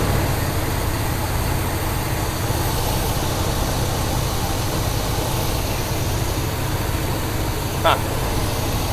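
A 1972 Buick GS engine idles steadily after its idle is adjusted, a low continuous rumble with no voices and a brief small click near the end.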